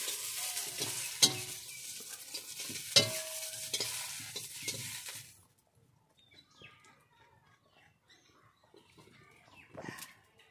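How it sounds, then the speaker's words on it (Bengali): Eggplant slices and egg frying in a pan while being stirred, a bright crackling sizzle with scraping strokes for the first half, then dropping to quieter, sparse clinks and light frying. "বেগুন ভাজা আর ডিম ভাজা হয়ে গেল"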